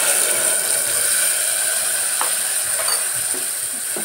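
Soaked spices drop into golden-brown fried onions in hot oil for a mixed vegetable pulao, giving a steady, bright sizzle with occasional small clicks and scrapes.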